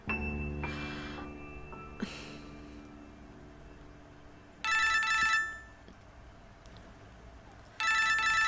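A telephone rings in two bursts of bright, warbling bell tone, each about a second long and separated by a pause, loud and close against a quiet room.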